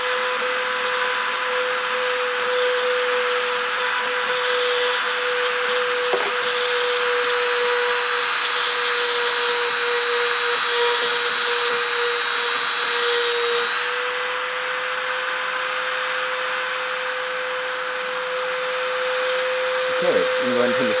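A CNC spindle runs continuously with a loud, high-pitched whine and a steady electrical tone, joined by occasional faint cutting sounds. The pitch wavers slightly but holds the whole time.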